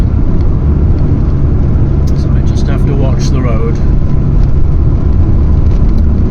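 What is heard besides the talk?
vintage VW T3/T25 van engine driving on road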